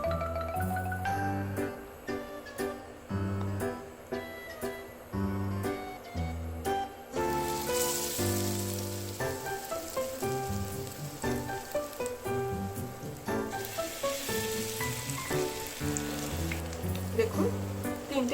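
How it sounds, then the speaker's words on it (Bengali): Batter-coated eggplant slices crackle and hiss as they fry in hot mustard oil, a dense, close sizzle that swells louder partway through and carries on steadily. "এবার বেগুনগুলো এই ব্যাটারের মধ্যে চুপিয়ে চুপিয়ে আমি তেলে ছেড়ে দিচ্ছি"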